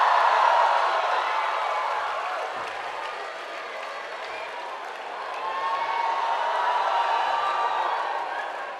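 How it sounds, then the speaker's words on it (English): An auditorium audience at a college language festival opening fills the room with loud, sustained applause and cheering that holds steady for the whole stretch, with no other sounds standing out. "Huge round of applause, Christites."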